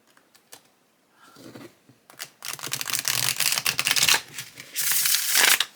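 Everyday Witch tarot cards shuffled by hand, starting with a few soft taps and riffles, then building into loud, crisp bursts of flapping and clicking cards that pause briefly and return, close up with no talk.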